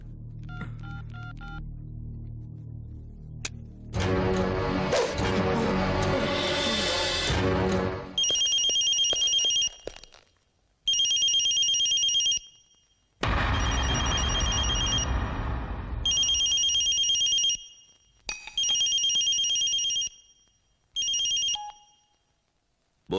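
A telephone rings in a Kannada action film scene: repeated loud electronic ring bursts separated by short silent gaps, following a stretch of dense, noisy film sound.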